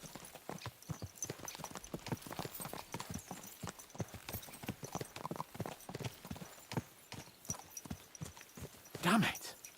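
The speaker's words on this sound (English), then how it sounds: "Let's really spur these horses on, eh?" Horses' hooves clip-clop at a brisk, rhythmic pace in Kingdom Come Deliverance II, with a snort or whinny near the end and talk mixed in.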